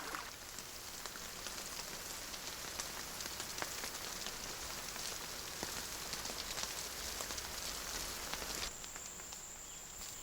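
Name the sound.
heavy rain falling in the Amazon rainforest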